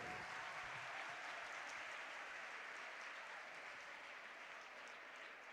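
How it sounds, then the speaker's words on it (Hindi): Sustained audience applause at an event honouring a speaker, a dense steady wash of clapping filling the whole stretch at even loudness, with no voices on top. "तो जोरदार तालियां"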